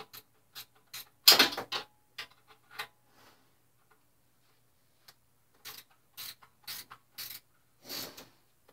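A wrench ratchets on 12 mm exhaust bolts during an exhaust change, giving scattered close clicks and short metallic bursts separated by quiet gaps.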